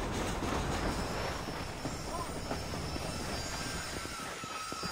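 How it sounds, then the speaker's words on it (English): A train runs in the Red Dead Redemption video game. Continuous rolling rumble and clatter from the rail cars mixes with a faint metallic wheel squeal, close and steady throughout. "I'm on the wrong side of the fucking train now."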